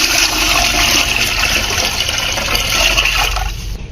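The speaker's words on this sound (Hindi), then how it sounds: "3 किलो पानी इसमें शामिल कर देंगे।" A strong, steady gush of water pours into a pot of washed raw basmati rice for carrot kheer, about three kilos of water for half a kilo of rice, loud and close before tapering off near the end.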